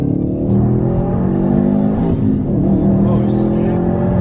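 A tuned 2020 Subaru STI boxer engine revs hard on a dyno, loud and close, its pitch rising and falling through a pull, with brief shouting voices.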